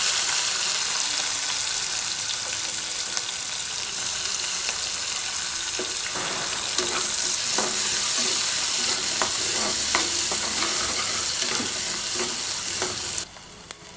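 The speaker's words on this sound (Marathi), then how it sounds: "गोल्डन ब्राऊन झाल्यावर लगेच कांदे टाकून घेऊया." Garlic and onions frying in a pan for a restaurant-style cashew curry, a loud, dense sizzle running throughout with scattered stirring clicks and scrapes, close and unbroken, ending with a sudden drop.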